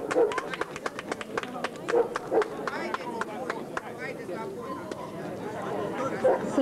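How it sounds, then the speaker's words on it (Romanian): Audience at a dog show in Bucharest claps after an Afghan Hound wins first place, a quick patter of applause mixed with crowd chatter and a voice talking over it. "pe el îl aplaudăm acum"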